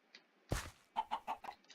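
Minecraft chicken clucking, a short squawk followed by four quick, close clucks in a steady rhythm, with no talk over them.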